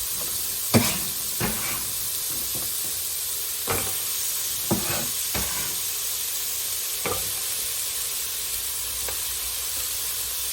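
Celery sautés in a pan with a steady, close sizzle and hiss, broken by occasional stirring scrapes.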